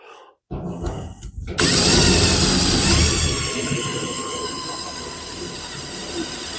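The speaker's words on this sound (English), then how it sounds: "So we'll take and drill that hole in." A power drill spins up loudly and drills a hole in the roof skin of a 1935 chopped hot rod, with a harsh, high whine that eases slightly as it keeps drilling, close by.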